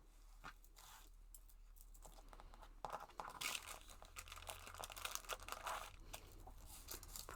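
Quilting fabric and foundation paper folded back by hand, with steady close crinkling and paper rustling that grows busier and louder partway through, over a faint low hum.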